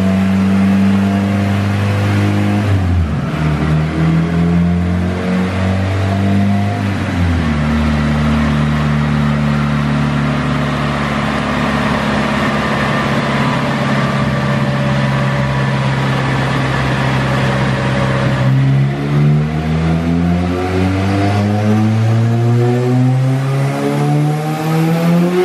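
A turbocharged Honda Civic on a Honda dyno revs hard in loud, sustained pulls, its pitch sweeping up, dipping briefly between gear changes and climbing again, with a whine over the engine roar and no talk.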